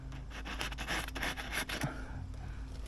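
Aluminum being sanded by hand with coarse 80-grit sandpaper, a series of quick rasping strokes in a steady rhythm, close and fairly quiet, fading to a softer rub toward the end.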